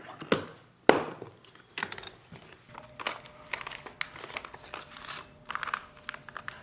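Packaging of a Smith and Wesson 617-6 revolver returned from the factory being opened up close: crinkling plastic, tearing and rustling, with a sharp thunk early on, then a run of scattered, uneven crackles.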